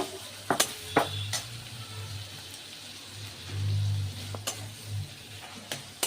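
A banana flower mixture being stirred in a pan over a medium-low gas flame, with soft scraping and a faint sizzle, plus a few sharp clinks of the spoon against the pan, quiet and close.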